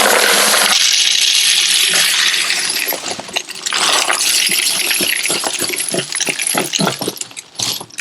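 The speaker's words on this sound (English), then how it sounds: "let's pour these in our Frankfurt Arsenal media separator" Brass cartridge cases and steel tumbling pins pour into a Frankfort Arsenal media separator after wet tumbling. The metallic clatter is loud and continuous at first, then breaks into scattered rattles and clinks as the pour thins out.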